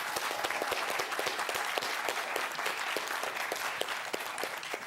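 Steady, full audience applause for two high school quiz teams, the Aragon Dons of San Mateo and the Menlo High School Knights of Atherton, dense clapping sustained evenly throughout with no talk over it.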